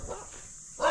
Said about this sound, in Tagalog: Yan, gagalit aso.